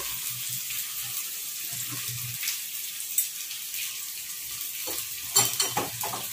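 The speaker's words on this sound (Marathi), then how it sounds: "आणि छान तळून घ्यायचं आहे।" Curry leaves and coriander frying in appe batter in a pan, a steady quiet sizzle with faint scraping stirs and a few sharper clinks near the end.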